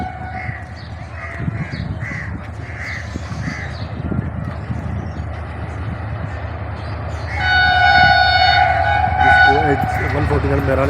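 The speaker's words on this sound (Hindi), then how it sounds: "इसको 149 मेहरान एक्सप्रेस को HGMU 30 लीड कर रहा है 8210।" Pakistani Mehran Express passenger train number 149 led by HGMU 30 diesel locomotive 8210 rumbles along, crows cawing nearby, then a long multi-tone horn blares loudly near the end.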